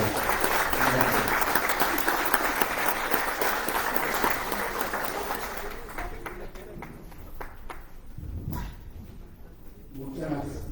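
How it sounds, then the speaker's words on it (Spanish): Loud audience applause at a talk on cuisine recognized as UNESCO world heritage, a dense sustained roar of clapping that thins after several seconds into scattered, fading claps. "Les pido un aplauso para ellos"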